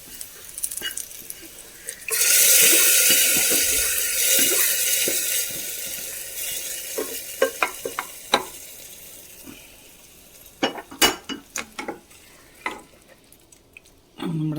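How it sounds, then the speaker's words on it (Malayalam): Fried onions are poured into a jackfruit seed and prawn curry, giving a loud burst of sizzling that fades into softer bubbling. Scattered clinks and stirring knocks follow near the end. "ഉള്ളിയൊക്കെ മൂത്ത് വന്നിട്ടുണ്ട് നമുക്ക് ഗ്യാസ് ഓഫ് ചെയ്യാം നമുക്ക് കറിയിലേക്ക് ചേർത്ത് കൊടുക്കാം"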